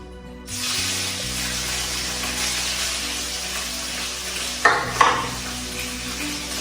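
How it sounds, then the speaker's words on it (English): Shrimp hit a hot pan for pad thai and sizzle steadily, a loud continuous frying hiss with a couple of brief clanks from stirring near the end. "now we're gonna throw in the shrimp"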